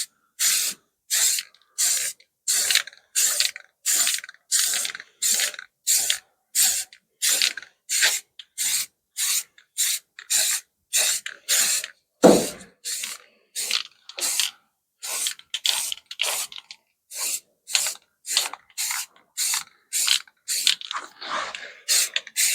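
Spray can laying a third primer coat on brake calipers, heard as a long run of short, evenly spaced hissing bursts, each about half a second, close and fairly loud, with a brief clunk midway.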